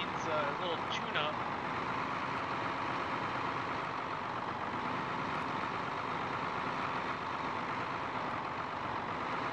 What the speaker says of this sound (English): Duramax diesel probably needs a little tune-up.